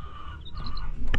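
Faint high chirps from small DeKalb Brown chicks in a cage, a few short peeps close by over a low steady background hum.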